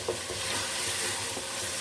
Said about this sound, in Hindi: अभी हम 2 मिनट के लिए और कीमे को भून लेते हैं।